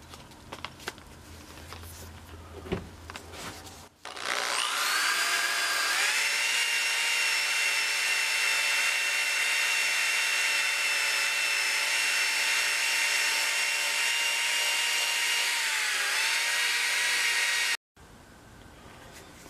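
A power sander works a steel fireman's hatchet head with 220 grit abrasive, spinning up to a loud, steady high whine that holds for about thirteen seconds before cutting off abruptly, with a little handling noise beforehand.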